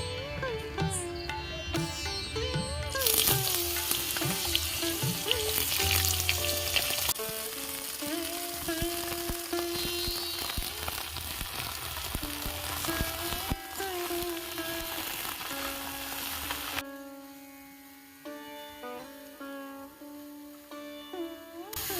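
Cut potatoes and eggplant fry in a pan with dried chili, giving a continuous crackling sizzle with stirring, partly under loud background music.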